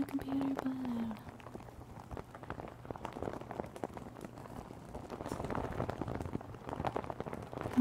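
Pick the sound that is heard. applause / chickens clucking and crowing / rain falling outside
rain falling outside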